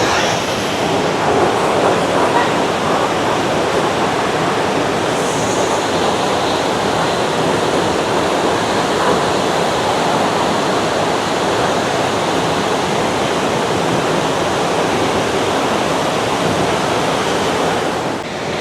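A monsoon-swollen waterfall near Ranchi, throwing up heavy spray, roars in a dense, unbroken rush close by. The sound is loud and steady for the whole stretch, with no voices.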